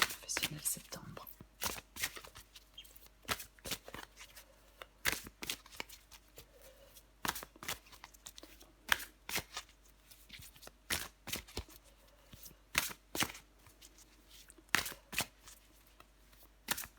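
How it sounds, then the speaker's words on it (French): Tarot cards are shuffled and drawn by hand, giving frequent quick, crisp riffles and snaps that come close and at an uneven rhythm, with soft low talk in between. "je prends encore une dernière carte pour vous les vierges"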